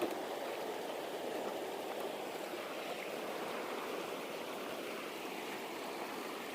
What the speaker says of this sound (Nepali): यो खोला चाहिँ बाटैमा पर्छ क्या